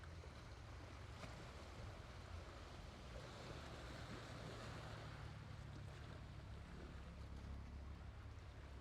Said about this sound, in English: I don't know if you guys can hear the sounds of the waves, but yeah, it's really, really beautiful